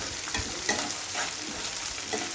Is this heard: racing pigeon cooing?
no